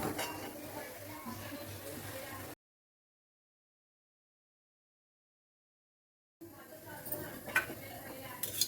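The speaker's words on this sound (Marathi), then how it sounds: "चला आता आपण कांदा भाजून घेऊ." Onion and grated coconut roasting in a pan for mutton curry, with a spoon scraping and clinking against the metal as it stirs. A soft sizzle runs underneath, and the sound drops out for a few seconds in the middle.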